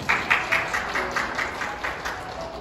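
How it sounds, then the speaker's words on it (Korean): Guests at a Korean wedding ceremony give warm applause for the couple, a lively crowd clapping with a slightly rhythmic, pulsing cadence, fairly loud and close, with no speech. "따뜻한 박수로 맞이해 주셔서 진심으로 감사드립니다"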